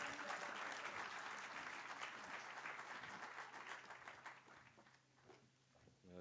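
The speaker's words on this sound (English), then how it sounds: "please give him a round of applause as he walks" Applause fills a seminar hall as a minister walks onto the stage, steady dense clapping from a large audience that holds evenly, then thins and fades slightly toward the end.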